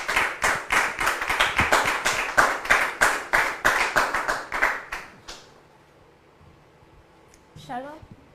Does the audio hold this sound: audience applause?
yes